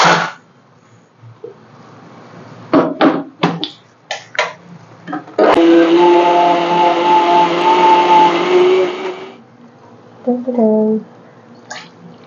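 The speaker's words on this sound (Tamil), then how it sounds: "சரி இப்போ வந்து நம்ம அரைக்க போகிறோம்" A kitchen mixer grinder runs for a few seconds of steady whirring drone, with scattered clicks and handling knocks before and after it.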